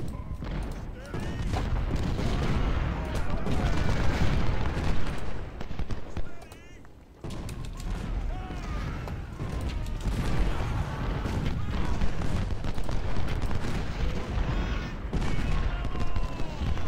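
Artillery and musket fire from a Civil War battle in the strategy game Ultimate General: Civil War, a steady roar of booms and volleys with a brief lull midway, under voices.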